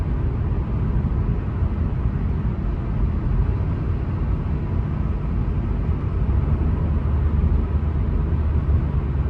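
A 2025 Changan Eado cruising near 100 km/h on an empty early-morning Riyadh highway, producing a steady, continuous road and engine drone with unbroken tire rumble.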